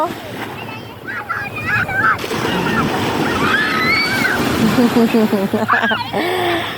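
Ocean waves wash and splash steadily nearby while people talk and exclaim over the water noise.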